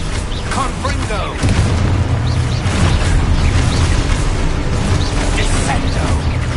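Loud, dense crackling blasts and booms from a Confringo fire spell in the Hogwarts Legacy video game, a sustained rumbling barrage over continuous low roar.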